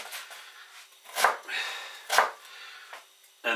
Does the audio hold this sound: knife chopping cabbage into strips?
yes